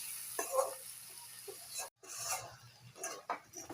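Potatoes and bhetki fish bones sautéing in a pan for a cabbage curry, with a soft steady sizzle broken by scraping stirs and a brief pause, close and fairly quiet.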